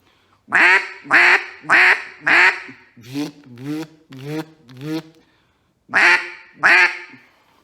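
Double reed duck call blown in a series of loud, raspy quacks: four strong blasts, a softer run of four, a pause, then two more, with no talk.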